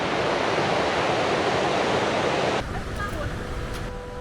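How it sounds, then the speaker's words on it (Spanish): Saltos del Monday waterfall on the Monday River in Paraguay, heard as a broad, steady roar of falling water that cuts off abruptly partway through, leaving a quieter rushing wash behind. "Aquí ya se puede ver el río Monday, que es de donde nacen los saltos del Monday"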